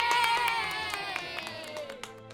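A crowd of children cheers and shouts for King Solomon at a church kids' service, a sustained bright roar of young voices with scattered claps, loud and close, fading slightly toward the end.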